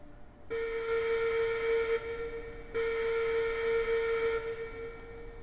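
A steam locomotive whistle in the Railroads Online train game sounds two long sustained blasts with a short pause between them, steady and fairly loud, with no talk over it.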